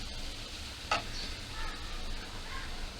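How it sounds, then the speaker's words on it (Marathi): Finely chopped val bean pods tipped into a hot onion and coriander tempering: a steady close sizzle with one sharp clatter as they land, followed by light stirring. "वालीच्या शेंगा बारीक चिरलेले मध्ये टाकते"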